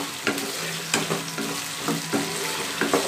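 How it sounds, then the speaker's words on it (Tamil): Tomato sautéing in a pan for mango and brinjal kuzhambu, with a steady sizzle under repeated scraping stirs of a spatula every half second or so, close and alone without speech. "சேர்த்துக்கிட்டு நல்லா வதக்கி விட்டுருங்க."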